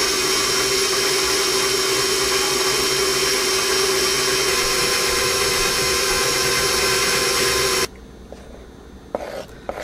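A stand mixer kneads wet cinnamon bun dough with about three and a half cups of flour, giving a steady loud motor whir that runs unbroken, then cuts off abruptly near the end, leaving quiet room tone with a couple of small knocks.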